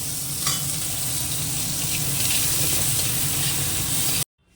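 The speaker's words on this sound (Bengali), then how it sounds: "তেল দিয়েছি এবার কাঁচা লঙ্কা কুচনো আর পেঁয়াজটা ভেজে নেব" Chopped green chilli and onion fry in hot oil, a loud, dense, continuous sizzle close by that cuts off abruptly at the end, with no voices.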